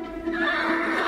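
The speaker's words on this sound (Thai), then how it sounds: "โอ้นั่นเจ้าม้าน้อยตื่นกลัวหนีอะไรมา" A frightened little horse neighs loudly and close, one sustained, wavering whinny lasting about a second with no talk over it.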